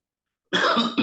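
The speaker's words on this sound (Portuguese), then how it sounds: "a tosse está me incomodando muito" A single close cough bursts out after a moment of silence, followed by a short second hack.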